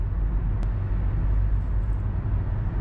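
A Nissan Altima with freshly changed CVT transmission fluid cruising on a short test drive, its steady low engine and road rumble filling the interior, loud and continuous with no speech.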